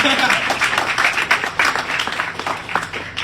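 Audience applause following a speech at a summit, a steady wash of many hands clapping close by for the whole stretch, with voices talking over it.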